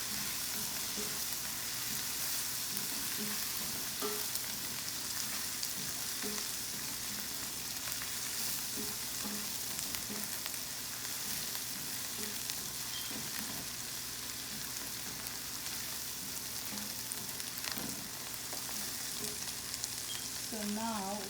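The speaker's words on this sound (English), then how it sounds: "garlic, ginger, and green chili, and we will let it cook with the onion" Onion, garlic, ginger and green chili frying together with liver paste in a pan, a steady close sizzle running throughout with small soft stirring clicks and no talking.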